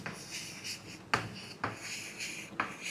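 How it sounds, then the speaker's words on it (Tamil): A pen writing a sentence by hand on paper, heard up close as soft scratchy strokes with several sharper taps as the pen lifts and lands. "நான் ஒரு சென்டென்ஸ் எழுதுகிறேன் பாருங்கள்."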